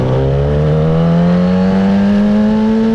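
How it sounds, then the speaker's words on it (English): A 2015 Kawasaki ZX-10 sport bike with a Snitch Racing tune and a Two Brothers exhaust revs hard at a raceway, its loud, close engine tone climbing steadily in pitch as it accelerates. "It's a 2015 Kawasaki ZX-10. It's got a Snitch Racing tune and flash, two brothers exhaust."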